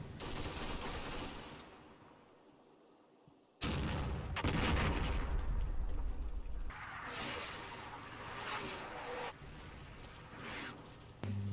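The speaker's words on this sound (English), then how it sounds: "The artillery barrage on my left flank is all smoke." A smoke-shell artillery barrage in the Combat Mission wargame, set in Operation Epsom. Bursts of rolling gunfire and dull booms come in several loud waves, with no voices.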